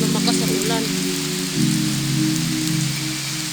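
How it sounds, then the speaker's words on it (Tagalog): Heavy rain pours down steadily on a surface, a dense continuous hiss with a low hum running underneath, close and loud throughout. "lumakas ang ulan"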